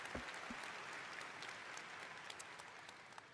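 Audience applause at the BlizzCon event, a steady, distant wash of clapping that stays even for a few seconds with no voices over it.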